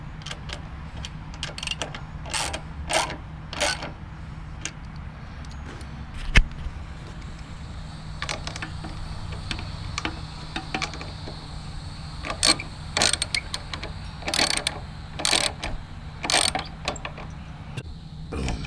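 Bolts being tightened on a Troy Bilt carburetor, with close, repeated metallic ratchet clicks in short bursts over a steady low hum.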